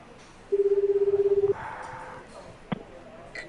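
A cell phone number is keyed in within the video game 428: Shibuya Scramble: a quick, even run of about a dozen dialing tones, then a quiet hum with one sharp click near the end.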